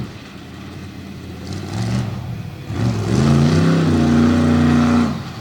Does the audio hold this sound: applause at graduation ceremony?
no